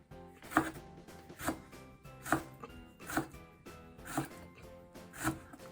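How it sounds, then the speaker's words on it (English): A knife chops green onion on a board in six evenly spaced, crisp thuds about one per second, close and clear, with faint music-like tones underneath and no talking. "I chop green onion."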